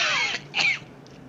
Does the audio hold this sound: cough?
yes